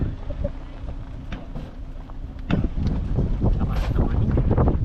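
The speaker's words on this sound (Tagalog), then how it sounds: "Lakas naman yun. Ang hangin." Strong wind buffets the microphone at a beach car-camping site, a steady rushing roar that swells louder halfway through while people talk nearby.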